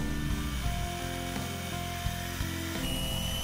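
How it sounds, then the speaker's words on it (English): Power drill with a half-inch bit boring a hole into a plastic air-vent pod assembly from a 1.8T Audi B6 A4, a close, steady whirring drone with small shifts in pitch as the bit cuts. "drill a hole using a half-inch drill bit"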